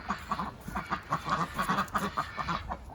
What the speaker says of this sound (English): we've got the ducks